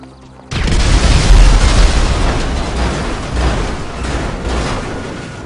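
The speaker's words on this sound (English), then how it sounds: "I have a grenade launcher" Grenade launcher explosions in the video game GTA Online hit with a sudden loud boom after a brief quiet start, followed by a long rumbling roar with further blasts that slowly fades.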